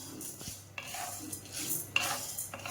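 Lentils dry-roasted in a pan for chakli flour, with a utensil scraping and stirring in soft, irregular strokes, quiet and close.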